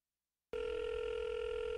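A telephone line tone cuts in abruptly after a moment of silence and holds steady and loud for the rest of the clip, part of a prank phone call skit.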